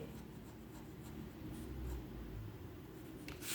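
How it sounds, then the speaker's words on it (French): A pen scratches across paper as someone jots down herb names by hand, a soft, close, continuous rustle with a few small taps, quiet and without speech. "J'écris n'importe comment."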